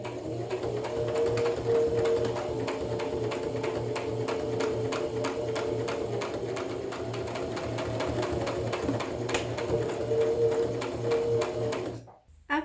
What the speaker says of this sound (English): I'm just rerunning a second line of stitches along